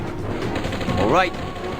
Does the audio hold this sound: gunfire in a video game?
yes